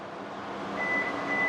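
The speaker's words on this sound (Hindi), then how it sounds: "ये गाड़ी बीप करेगी।" A thin, steady electronic beep tone from a 2025 Hyundai Tucson rising over a low engine hum, near and moderately loud, no one talking.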